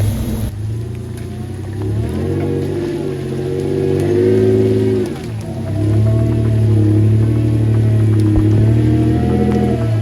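Car engine idling and pulling away during a fierce storm, a steady low rumble that swells and dips as the throttle changes, loud and close with no talk.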